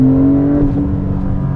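A Porsche 911 Turbo S of the 992 generation revs on a race track, a loud, close engine drone holding a steady pitch for a moment and then wavering briefly.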